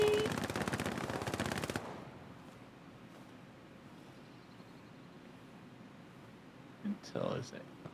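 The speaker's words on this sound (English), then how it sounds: "I love the sound of the anti-tank rifles" Anti-tank rifle fire in a first-person war game, a loud rapid burst of repeated shots for about two seconds, then quiet ambience with a couple of softer thuds near the end.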